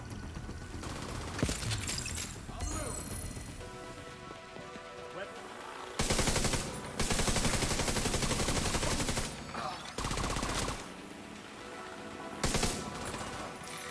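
SMG gunfire in The Division 2, coming in several dense bursts of rapid shots separated by quieter gaps, loud and close, over a busy game backdrop with a voice talking at times.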